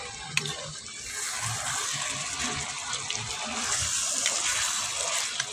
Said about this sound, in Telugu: ఒక గ్లాస్ మీద నీళ్ళు వేసుకున్నాము